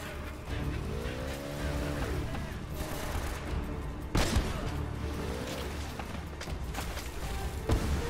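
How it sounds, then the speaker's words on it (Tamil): Enemy gunfire in Uncharted: Drake's Fortune while Nathan Drake is out boating with Elena: sharp cracks and bursts fire at intervals over the game's engine hum and rising whines, with two loud shots standing out. "ஓ என்ன இது ஷூட் பண்றாங்க"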